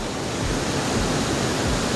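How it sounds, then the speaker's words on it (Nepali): Waterfall water rushes down from above in Palpa Nisdi, heard as a steady, dense roar of broadband white-water noise that stays constant and fairly loud throughout, with no voices. "त्यहाँबाट झर्नाको पानी सरर माथिबाट पुऱ्याउँछ"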